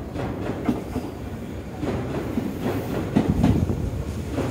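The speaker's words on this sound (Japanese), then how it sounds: "3番線には東駅止まり終点の電車が到着いたします" A Tobu 200-series train rumbles and clatters into Kuki Station platform, with rhythmic wheel clicks over rails and low mechanical noise throughout.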